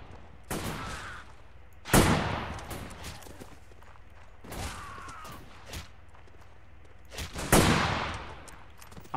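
Rifle volleys in a Zulu War video game crack out in several loud, spaced bursts of massed gunfire, each booming and then trailing off, with quieter rustling between volleys.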